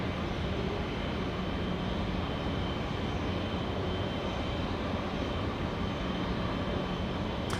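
A fixed-wing aircraft at Auckland Airport, New Zealand, produces a steady, broad engine roar that holds constant throughout without breaks or voices.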